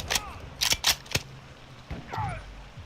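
A magazine swap in a shooter video game: a rapid run of sharp metallic clicks and clacks, followed by a softer rattle and a slide, all close and crisp.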